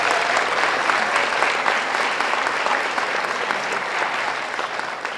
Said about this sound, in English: 8th graders, please give a round of applause to these wonderful people who have supported you to get to this night.